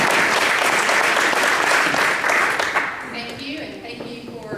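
Audience applause welcoming a speaker at a board member training event: dense, steady clapping from a room full of people, loud at first, then thinning and fading after a few seconds.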